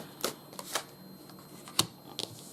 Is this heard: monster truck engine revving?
no